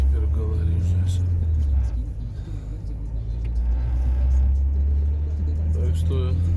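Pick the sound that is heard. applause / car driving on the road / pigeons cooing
car driving on the road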